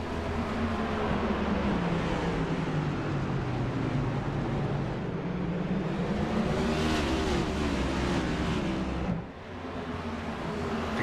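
Race cars at Martinsville in a sim racing game roar continuously down the back straight, engines droning and shifting pitch as the pack passes, with a brief dip near the end.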